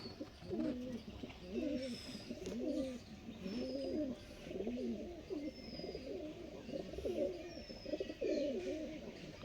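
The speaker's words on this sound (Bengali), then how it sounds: "সব সাদা চোখের পায়রা।" White-eyed pigeons coo close by in a steady repeating rhythm of soft, throaty phrases, about one every second, with faint chirps in the background.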